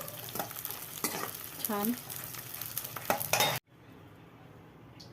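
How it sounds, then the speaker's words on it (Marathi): Edible gum roasting and puffing in hot ghee in a kadhai, stirred with a spoon that scrapes and clinks against the pan, a steady sizzle throughout with a brief spoken word, before the sound cuts abruptly to quiet. "आधी डिंक भाजूया"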